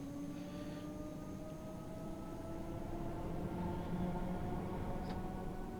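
A Class 314 electric train on the Cathcart Circle line between Glasgow Central and Neilston accelerates at full throttle. A steady, loud rumble runs throughout, with a motor whine that climbs gradually in pitch.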